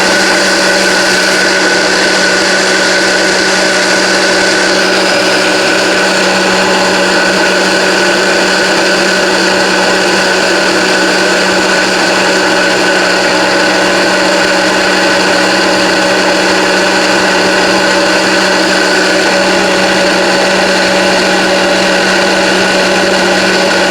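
A blender runs steadily and loudly, pureeing meatless spaghetti sauce in one continuous high whir with no breaks or talking.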